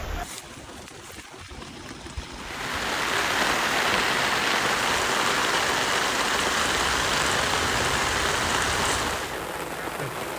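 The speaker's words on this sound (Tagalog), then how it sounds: "12 AM na ngayon ang madaling araw, biglang bumuhos yung ulan." Heavy rain suddenly pours down at midnight during a riverside camp on the Boac River in Marinduque as a storm arrives. A quiet start gives way to a loud, dense, steady downpour that eases slightly near the end.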